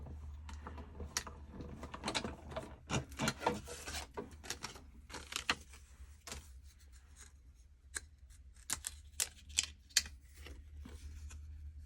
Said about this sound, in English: So you'll see this is going to die cut and emboss it all in one pass.